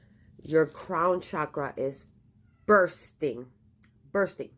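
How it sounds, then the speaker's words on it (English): A house cat cries with several meows that are partly masked by someone speaking steadily over them. "Oh, you hear that? That's my cat."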